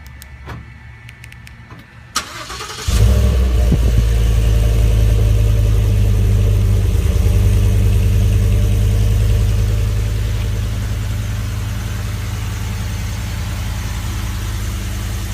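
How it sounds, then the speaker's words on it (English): After a few faint clicks, the 5.0 V8 of a Ford F-150 XLT pickup, started by remote start, cranks and roars to life, then settles into a deep, steady rumbling idle, loud and close. "I'm gonna start it up here real quick with the remote start. You can hear it on idle."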